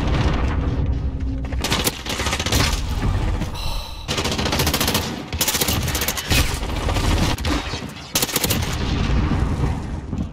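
Dragunov rifle firing in a video game, a dense run of loud, close shots and booming reports repeating through most of the stretch with a few short breaks.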